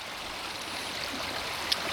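Water gurgles and trickles steadily as a pipe fills, with a constant bubbling hiss and one brief brighter splash near the end.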